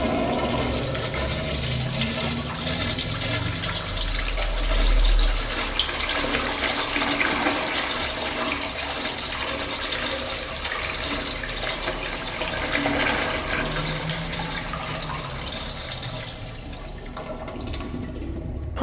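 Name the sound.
early 1900s Crane Sanwall toilet flushing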